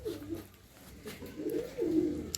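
Tournament pigeons kept for sale in Amta, Howrah give soft, close, repeated throaty coos in a rolling rhythm.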